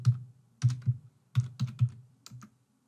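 Fingers tap out a subject line on a computer keyboard in three short bursts of crisp, close clicks with brief pauses between them, with no talking.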